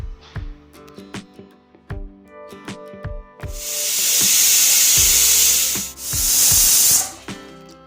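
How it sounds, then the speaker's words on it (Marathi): A kitchen pressure cooker steaming vegetables for pav bhaji gives off a loud, close, steady steam hiss in two long bursts with a brief dip between them, after a run of metallic clanks and taps. "कुकरला झाकण लावून दोन तीन शिट्ट्या होईपर्यंत या भाज्या शिजू देऊ"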